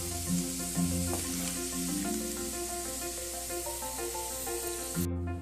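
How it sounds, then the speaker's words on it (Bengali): Prawn fritters frying in a pan of hot oil give off a steady bright sizzle that continues under music playing throughout, cutting off briefly near the end. "এই একইভাবে আমি বাকি বড়াগুলো ভেজে নেব"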